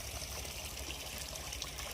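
Water running from a village supply tap or pipe, a steady close trickling and gushing flow that stays even and continuous throughout.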